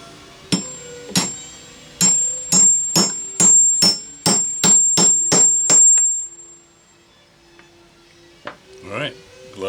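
Sharp hammer taps drive a small brad nail into a pilot hole in wood on a model flat car, about a dozen quick blows in a steady rhythm with a ringing metallic edge, then a pause and a few fainter knocks.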